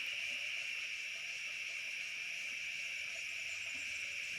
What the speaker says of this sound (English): The cicadas are in the tree.